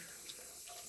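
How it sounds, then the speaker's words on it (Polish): Tap water runs from a bathroom faucet spout, rinsing shaved whiskers off a Rockwell razor, a steady close hiss with no voices. "odrobiną bieżącej wody prosto z wylewki, z kranu"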